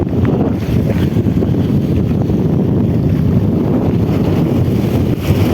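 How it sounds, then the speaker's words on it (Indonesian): Strong wind buffets the microphone while fishing by the water, a loud, continuous rumbling gust with no pauses and no talk. "anginnya kok banter."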